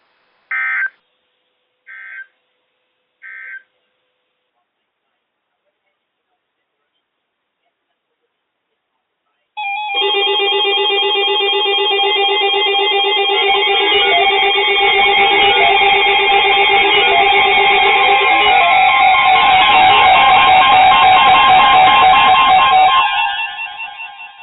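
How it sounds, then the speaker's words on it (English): Three short electronic tone bursts sound first, then after a silence a loud sustained warning tone from a National Weather Service weather radio alert blares steadily for about fourteen seconds before cutting off. "This ends the test of National Weather Service weather radio warning alarm."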